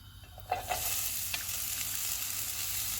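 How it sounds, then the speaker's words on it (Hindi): Onions frying in hot oil for vegetable spring roll filling give a steady, close sizzle with a few brief stirring clatters near the start, continuing evenly throughout with no voices. "ऑयल गर्म हो गया, इसमें प्याज डालेंगे"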